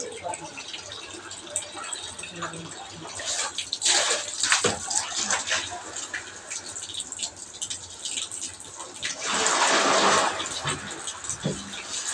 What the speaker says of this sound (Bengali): বাথরুমে জলটা ভরে নিলাম